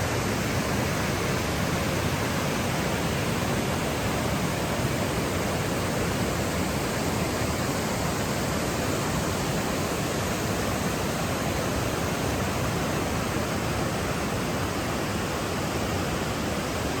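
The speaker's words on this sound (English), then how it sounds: "Got a nice little waterfall out here to explore today." A small waterfall outdoors in Oregon pours steadily, a loud, dense, unbroken hiss and rush of falling water that holds the same level throughout with no other sounds.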